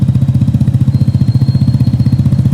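A Vespa GTV 300 S or Triumph Trident 660 with a toned-down aftermarket exhaust idles close by, a deep, even, rapid pulsing thrum with no talk.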